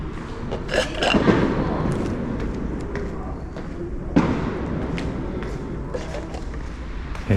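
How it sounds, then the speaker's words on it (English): Fireworks go off in Liuyang, China, with two distant thuds near the start and middle standing out from constant rain-like noise, while people talk nearby. "Yeah, you can hear some fireworks even shooting."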